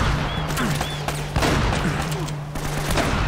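Dense rapid gunfire from a firefight in Uncharted: Drake's Fortune, overlapping bursts and single shots crackling continuously for several seconds, with a steady in-game hum underneath and no speech.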